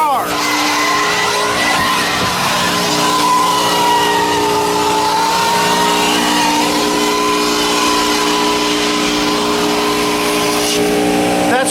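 A car wash vacuum cleaner runs continuously at close range, a loud steady whine with tonal hum and airy rush that holds level the whole time.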